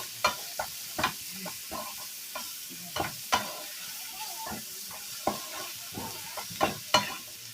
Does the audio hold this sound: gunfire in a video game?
no